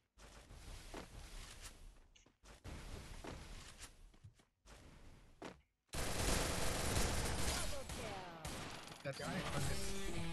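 Gunfire in the battle royale game Free Fire during a ranked match, with dense bursts of automatic shots and scattered single reports, loud and close, broken by brief pauses and then a sustained heavy barrage.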